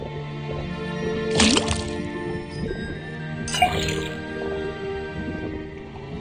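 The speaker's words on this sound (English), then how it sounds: "tap the faucet" In the video game Detective Grimoire, a faucet pours liquid into a cauldron, with two short splashing, dripping bursts over a quiet background of soft game tones.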